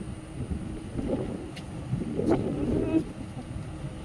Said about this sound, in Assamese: কি বতাহ!